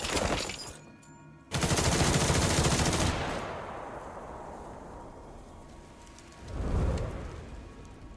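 Burst of rapid automatic gunfire in the Duet Night Abyss video game, a dense loud volley lasting about a second and a half, then a fading reverberant tail and a shorter second burst.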